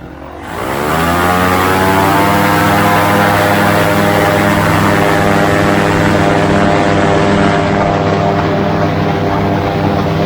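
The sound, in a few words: light propeller aircraft taking off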